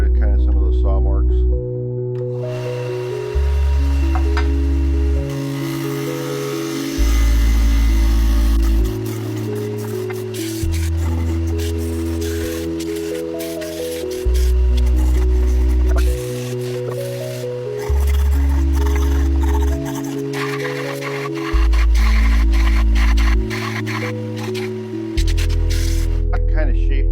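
A benchtop sander flattens a piece of scrap wood to remove saw marks, giving a loud, continuous grinding whir with repeated surges and dips as the board is pressed and shifted, while a voice talks under it.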